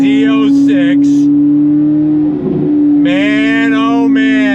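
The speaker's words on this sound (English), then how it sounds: "that exhaust with the Venturi airbox. Talk about music to my ears" Modified Chevrolet C8 Corvette Z06 with a Venturi airbox and aftermarket exhaust, a steady loud engine drone heard from inside the cabin, rising and swelling with throttle over the whole stretch, under and between bursts of speech.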